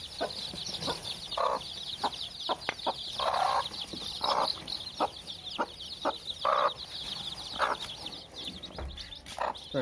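Young chicks on a small poultry farm cluck and peep repeatedly while eating a feed of mixed grain and small rice, a busy, close chorus of short calls with pecking.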